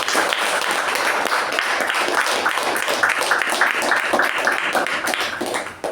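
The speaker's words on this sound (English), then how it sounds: "Huge round of applause." A Toastmasters meeting audience applauds in a steady, dense burst of many hands clapping for about six seconds, loud and close, with no voices over it.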